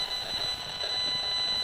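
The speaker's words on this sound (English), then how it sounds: "The sound comes from the Esmog Spion." An Esmog Spion EMF meter's sound function gives a steady, high electronic tone that holds unbroken over a low, hissy background, close and fairly loud, without speech.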